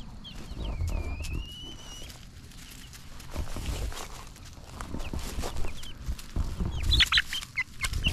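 Young meat-type chicks, Cornish cross hybrids, in an outdoor pen, clucking and cheeping near and fairly loud, with one long rising chirp early on and scattered calls and scuffling throughout.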